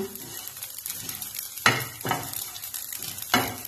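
Rice frying in a pan while making payesh, a low steady sizzle with a few sharp stirring scrapes of a utensil against the pan, close and fairly quiet.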